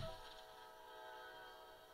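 A train in the Roblox game Trains Vs Cars 2 rolls by, a faint, steady mechanical hum with tonal horn-like drones, heard alone without talk.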